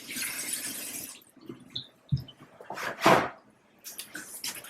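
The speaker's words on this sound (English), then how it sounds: "First snack is an apple. Giving it a quick rinse off." An apple rinsed under a running kitchen tap, a short burst of splashing water followed by quieter handling, a couple of clinks and another brief gush, close and moderately quiet.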